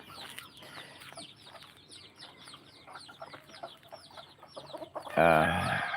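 Hens and roosters at feeding time, scattered clucks and calls at moderate distance, ending with a loud rooster crow close by.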